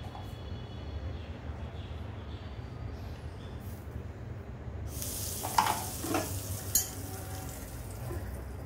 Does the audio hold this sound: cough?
no